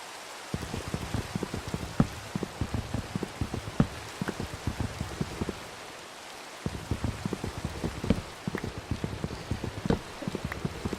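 Steady rain in Minecraft, a dense hiss of falling drops with sharp patters landing throughout, even and continuous with a brief dip near the middle; no voices.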